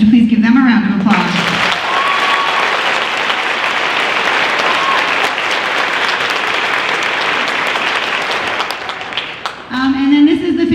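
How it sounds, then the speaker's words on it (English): A concert audience gives a long, loud round of applause for middle school band students, steady crowd clapping that is briefly framed by a voice at the start and end. "Would you please give them a round of applause?"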